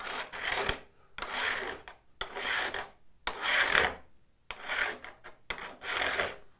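A metal file rasps across a card scraper held on a bench in repeated long strokes, six or seven bursts with short pauses between, close and clear with no talking.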